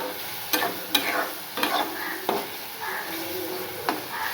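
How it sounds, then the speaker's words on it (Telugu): Eggplant vankaya ullikaram curry being fried and stirred in a pan, a steady close sizzle broken by several sharp scrapes of the spoon against the pan at irregular intervals. "కలిసేటట్టు మనం బాగా ఫ్రై చేసుకోవాలి"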